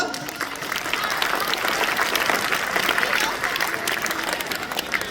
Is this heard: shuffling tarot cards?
no